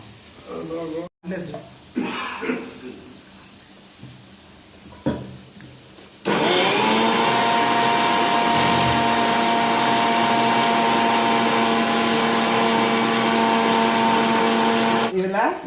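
A mixer grinder grinds masala for a Tirunelveli-style dried fish curry: a loud, steady motor whine kicks in partway and runs on alone, after some earlier handling noises and clatter.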